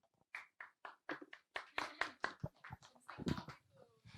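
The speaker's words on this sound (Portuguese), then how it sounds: "Sem público, mas nós aplaudimos assim mesmo." A few people clap at a panel discussion on presidential impeachment crimes, with no audience present; the claps are sparse and irregular, fairly close and moderately loud, with no talk over them.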